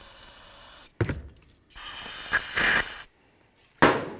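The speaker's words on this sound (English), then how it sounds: "A little bit more parts cleaner." Bursts of aerosol parts cleaner sprayed into a Jeep Compass brake caliper: a short hiss, a longer loud spray with pulsing pressure, then another sharp blast after a pause, close and with no talk.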